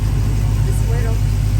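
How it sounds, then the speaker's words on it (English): A Dodge Hellcat engine idles steadily and close after a fuel pump install, with a continuous low rumble throughout and a person talking over it. "I just wanted to get it idling and running to see if we did it right."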